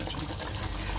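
Water poured from a vessel into mutton curry simmering in a cooking pot to thin the gravy, a steady close pouring and splashing rush that runs the whole moment with no talk.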